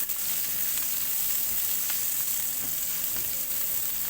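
Onions sizzling and frying in a pan while pancit bihon is cooked, a continuous close hiss of hot oil with faint stirring scrapes, no talking.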